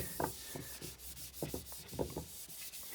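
Oil finish is rubbed by hand into a yew wood bowl, making repeated rough rubbing strokes in an irregular rhythm, close and moderately loud, with no speech.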